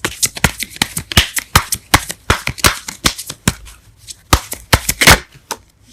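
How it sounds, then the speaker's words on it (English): Tarot cards are shuffled and drawn, producing a rapid run of crisp riffling slaps and flicks close to the listener, irregular in rhythm, with no talking. "Let's get one more card for the Devil."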